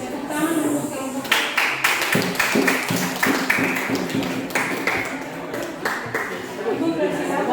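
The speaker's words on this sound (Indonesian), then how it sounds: "Tepuk tangan untuk kelompok" An Indonesian classroom claps for a group of students, a quick patter of many hands rising after a brief pause and continuing steadily near the microphone, with a teacher's voice talking through the middle.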